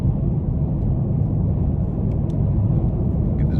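A 2020 Chevy Camaro with the LT1 6.2-litre V8 cruises at about 78 mph, producing a steady, loud, low engine and road rumble from inside the cabin, with no talking.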